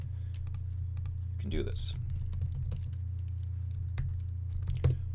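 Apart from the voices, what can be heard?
typing on a computer keyboard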